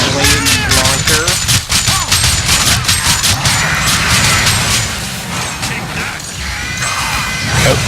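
Saw blade launcher in Killing Floor 2 fires in steady rapid bursts amid dense combat clatter and crashes, loud and close throughout, with faint voices in the mix.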